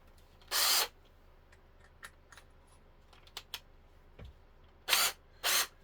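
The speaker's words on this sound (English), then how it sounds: "We need a drill." A power drill whirs in brief bursts while dressing the commutator of a sewing machine motor, one early and two close together near the end, with small clicks and taps in the quiet between.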